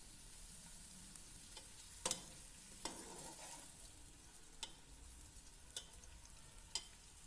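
Onions fry in a pan until light brown while being stirred constantly. There is a faint, steady sizzle with occasional soft clicks and scrapes from the spoon, heard alone and quiet.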